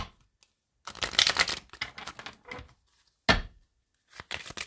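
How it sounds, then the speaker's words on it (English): Oracle cards are shuffled by hand in several close, crisp bursts of riffling and flicking, with short silent gaps between them. "Last shuffle."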